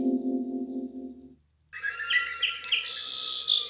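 A sparrow chirps in quick, bright repeated tweets, fairly close and clear, following a brief low tonal sound that cuts off into a moment of silence.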